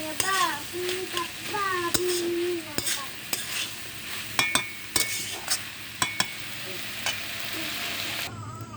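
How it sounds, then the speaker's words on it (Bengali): Potatoes, chickpeas and cabbage frying together in a pan, a steady sizzle broken by sharp clinks and scrapes of a utensil stirring against the metal, with a voice talking briefly at the start. "দেখেন আলু, ছোলা, বাঁধাকপি একসাথে ভাজি করে নামিয়ে নিলাম"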